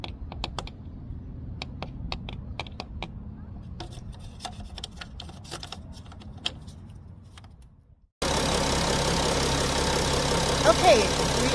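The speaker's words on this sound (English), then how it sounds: "I'm going to go ahead and start the engine and let it run a little bit" Mercedes-Benz Sprinter van engine being started, with clicks and rattles of keys and handling first, then a sudden steady broadband idle that holds loud and even to the end.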